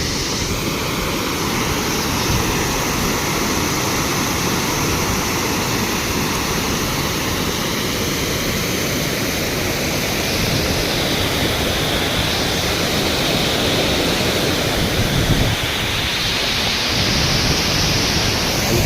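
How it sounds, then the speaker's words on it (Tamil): Forceful rushing water at a Shivan temple site in Krishnagiri, a loud, dense, continuous roar that holds steady throughout with no voices. "இந்த இடத்த பார்த்திங்கன்னா தண்ணி எவ்வளோ ஃபோர்ஸாக போகுது பாருங்கள்"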